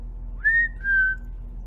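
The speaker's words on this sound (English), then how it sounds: "You're going to have to know how to whistle." Someone whistles two clear sustained notes, the first higher and the second slightly lower, close and alone over a quiet low hum.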